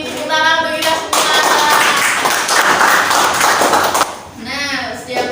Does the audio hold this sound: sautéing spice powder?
no